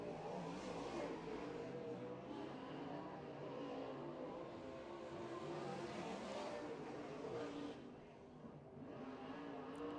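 Modified race car engines drone steadily on an East Bay WinterNationals short-track oval at night, a continuous layered roar with rises and dips as cars circle, a commentator's voice faintly mixed beneath.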